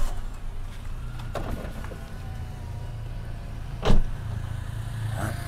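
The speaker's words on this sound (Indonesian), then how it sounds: "nah, ini mesinnya sekarang seperti ini suaranya." A Toyota Avanza engine idles after starting, the engine having suffered overheating damage; a steady low rumble runs throughout, with a few brief clicks and one short louder burst near the end.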